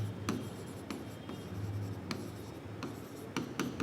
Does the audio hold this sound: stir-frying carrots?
no